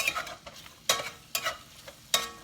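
Sausage stirred and frying in a pan for a po'boy sandwich, giving a steady sizzle broken by several sharp scraping stirs at irregular intervals, close and moderately loud.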